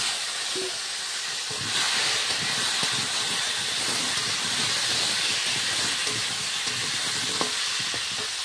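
Potatoes frying in hot oil in a kadai with dried red chillies, bay leaf and cumin, giving a steady close hiss and sizzle with occasional stirring clatter throughout, no voices.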